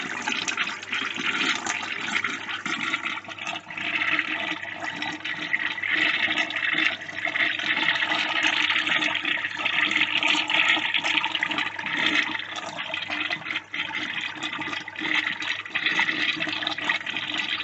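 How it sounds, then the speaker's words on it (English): A toilet runs after a septic treatment has been added, giving a steady, continuous rush of flowing and refilling water that holds at an even, moderate level throughout, with no voices. "And then let the water run for about 15 seconds."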